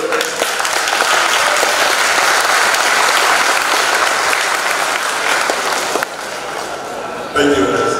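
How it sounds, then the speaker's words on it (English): Audience applause at a LibreOffice technology conference, sustained and fairly close for about six seconds before dying down, with a voice speaking briefly at the end. "So please give them, clap your hands for their work."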